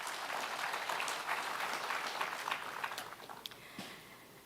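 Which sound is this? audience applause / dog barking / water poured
audience applause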